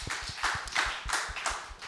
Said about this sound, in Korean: 박수 한번 치도록 하겠습니다